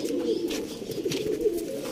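Soft, low pigeon cooing repeats in a steady murmur, close by, with faint rustling and no talking.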